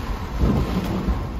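A thunderstorm lashes Balneário Camboriú with rain and strong gusting wind, a brief, dense roar of wind buffeting and low rumbling across the whole moment, with no voices.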